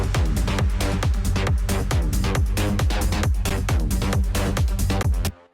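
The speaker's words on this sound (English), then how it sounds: "Then we added this revealed tech house loop, or I think it's a techno loop, not a tech house loop." Techno drum loop layered into a tech house dance track, with steady four-on-the-floor kicks and busy percussion playing loud and continuous before cutting off abruptly near the end.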